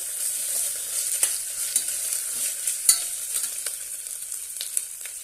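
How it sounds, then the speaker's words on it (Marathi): Ginger-garlic paste sautés in a hot pan for moong pulao, a bright continuous sizzle punctuated by frequent clicks and scrapes of a spoon stirring, close and clear. "आता आपण यामध्ये आलं लसणाची पेस्ट घालूया ते पण परतून घेऊया"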